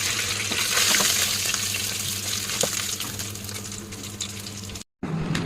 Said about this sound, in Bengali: এখন আমি ভাজবো। এই যে দিয়ে দিছি, মাংসটা হতে থাকবে। এটা আমি একদম ভাজা ভাজা করবো।